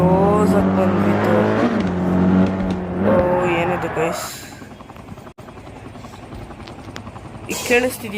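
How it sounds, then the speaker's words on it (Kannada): A helicopter chopper in a driving video game gives a loud, steady rotor drone that carries on throughout, with tonal game sounds or a voice over it in the first few seconds. "ಇದು ಹೆಲಿಕಾಪ್ಟರ್ ಚಾಪರ್ ಸೌಂಡು."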